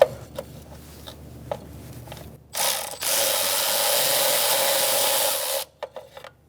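A ratchet wrench clicks steadily as valve cover bolts are loosened on a 2007-2012 Nissan Altima 2.5L four-cylinder, with short ticks followed by a long, loud continuous ratcheting run close by and a few final clicks.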